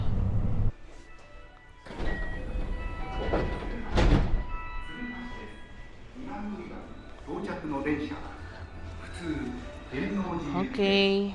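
Inside a train in Japan, a low rumbling hum with thuds and a door sliding, while people speak quietly throughout.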